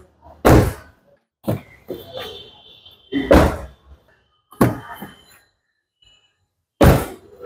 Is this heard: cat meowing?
no